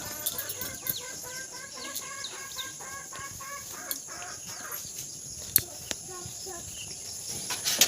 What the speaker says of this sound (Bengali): মুরগি কর কর কর করছে ডিম দেবে মনে হচ্ছে